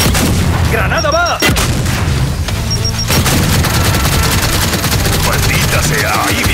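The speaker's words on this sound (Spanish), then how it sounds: "¡Lanzo una de fragmentación! ¡Granada va!" Fragmentation grenade blasts in Gears of War 5, a dense roar of explosions and gunfire-like cracks filling the whole span, loud and continuous with brief lulls, with game voices faintly mixed in.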